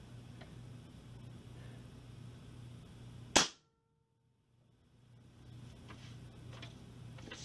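An AEA 357 Challenger air rifle fires an 85-grain EEPG bullet: one sharp, loud crack that cuts off into a moment of silence, with quiet room noise on either side.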